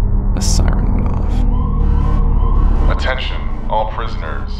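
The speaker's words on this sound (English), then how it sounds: "A siren went off." A prison alarm siren from the video game Subterrain, a loud wailing rise and fall over a low mechanical drone, with a voice speaking under it.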